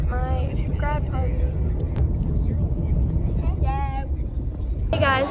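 A car driving home on the road makes a continuous low cabin rumble throughout, with people talking over it.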